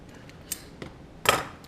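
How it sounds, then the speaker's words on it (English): Leather scissors snip through leather while making a bag, three or four sharp crisp cuts spaced unevenly, the last one longest and loudest, close and alone. "This is where a good pair of leather scissors really come in handy."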